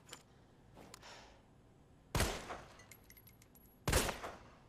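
Two sharp gunshots from Resident Evil 2 remake ring out in a quiet setting about two seconds apart, each with a short decaying tail.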